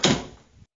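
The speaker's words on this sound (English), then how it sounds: "Close the door!" A door closes with one close, dull thunk that fades quickly, heard alone with no talking.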